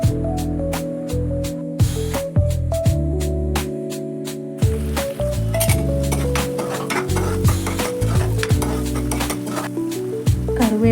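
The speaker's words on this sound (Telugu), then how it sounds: "ఒక ప్యాన్లో ఆయిల్ పోసుకొని ఆయిల్ వేడెక్కాక మెంతులు, గ్రైండ్ చేసి పెట్టుకున్న పేస్ట్ వేయాలి" Fenugreek seeds and a ground paste dropped into hot oil in a pan, crackling and spattering in bursts with a few clinks of utensils over a bed of background music; no one speaks.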